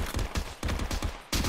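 Rapid gunfire from a powerful gun in a classic Call of Duty level played in VR: a dense burst of repeated shots, close and loud, with a brief pause before a final volley.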